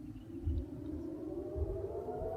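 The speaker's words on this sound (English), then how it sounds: "you can still hear the siren and the interceptions" An air raid siren wails steadily in the distance during a missile barrage on Israel, its tone holding through the whole stretch under a low rumbling background.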